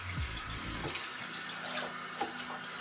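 Water pours steadily from a tap to soak a US Army beret, a continuous close splashing rush into a sink with a few brighter splatters near the end.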